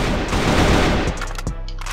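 A quick burst of gunfire, several sharp shots close together, then a couple of fainter pops as it tails off.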